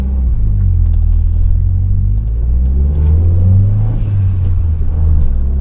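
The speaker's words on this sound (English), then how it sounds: "change these cooling fans, because they sound like the car's about to take off when they kick in" Worn-sounding cooling fans on a Cosworth car drone loudly in a constant low rumble with a slight wavering hum, running steadily throughout.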